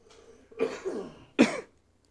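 A person coughs twice, close and fairly quiet, with a faint throat sound before the first cough and near silence afterward.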